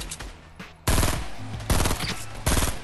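Three loud bursts of Fortnite automatic gunfire, each a rapid string of close, sharp shots separated by short pauses, with quieter game sounds in between.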